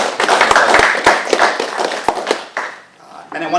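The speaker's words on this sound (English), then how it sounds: "Another round of applause for the panelists." A crowd bursts into applause for the panelists at the close of a careers event, a dense patter of clapping with a voice talking over it before the clapping thins out.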